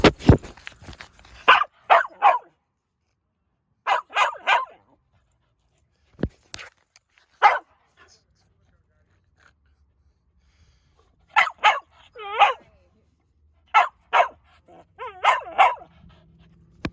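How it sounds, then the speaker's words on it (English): A small dog barks in short clusters of sharp, high yips, with long quiet gaps between bursts; close and fairly loud. "Who's the cute puppy?"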